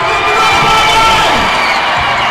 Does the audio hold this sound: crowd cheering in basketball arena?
yes